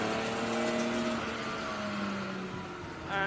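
A racing car on a circuit, its engine holding a steady, buzzing note that drops slightly in pitch as it passes at moderate distance, then another engine rises briefly at the end, with no talking.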